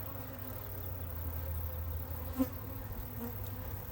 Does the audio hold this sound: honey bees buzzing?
yes